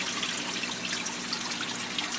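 A steady waterfall in a home aquarium holding discus fish trickles and splashes like a babbling brook, with a constant close hiss of running water and no voices.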